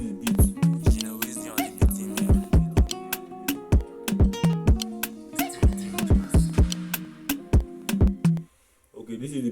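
A beat made on a phone in BandLab plays loud and close, with punchy kicks, snappy hits and a looping melodic pattern in a steady groove. It cuts out near the end.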